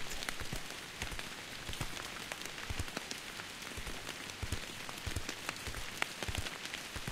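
In Bear Simulator, rain patters steadily on surfaces with a constant hiss and scattered sharper drops, alone and with no talking.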